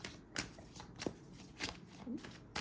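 Tarot cards riffle and slap in several quick shuffling bursts, crisp and close, with brief pauses between them.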